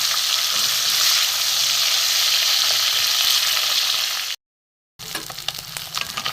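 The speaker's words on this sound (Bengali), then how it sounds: "উল্টে পাল্টে ভেজে নেবো।" Pieces of Ganges river fish frying in hot oil and being turned over: a loud, dense, continuous sizzle close up, cut by a brief silent gap before the sizzling resumes with light crackles.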